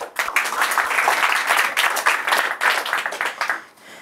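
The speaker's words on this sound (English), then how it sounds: "Let's have a round of applause for my volunteer." A theatre audience at a magic show applauds a volunteer coming up on stage, with dense, lively clapping that holds steady and then tapers off near the end.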